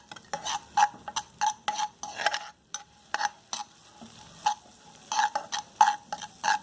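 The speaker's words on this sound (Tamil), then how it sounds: "இப்போ நம்ம பொடியாக நறுக்கி வச்சு பூண்டை போட்டுக்கலாம். அந்த பட்டரை நல்லா வதங்க விட்டுருங்க." Chopped garlic sautés in melted butter in a pan, with soft sizzling under repeated clinking, scraping stirs at an uneven rhythm, heard close.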